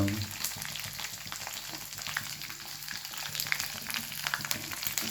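Green chillies fry in oil in a pan for lemon rice, giving a steady, close crackling sizzle with small pops throughout and no talk.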